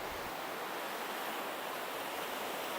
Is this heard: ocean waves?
yes